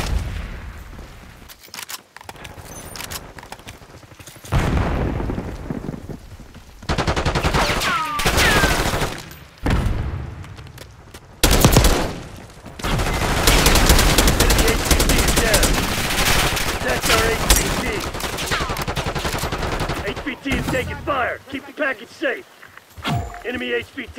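Call of Duty Black Ops 6 multiplayer match with an AK-74, loud bursts of automatic gunfire and single shots come in rapid clusters separated by brief lulls, with game announcer voices and footsteps mixed in.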